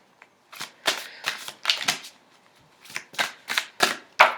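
Tarot cards being shuffled and drawn by hand, a run of crisp riffling and flicking bursts in quick succession, close and clear, with no voice.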